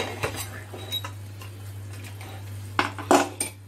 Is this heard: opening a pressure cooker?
yes